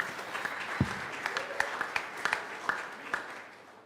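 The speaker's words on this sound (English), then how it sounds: "So a round of applause for Jack Gregory and Hayden Emerson" Light, scattered applause at a boxing press conference for two fighters, a handful of distinct claps over room murmur, moderately faint, with a dull thump near the start.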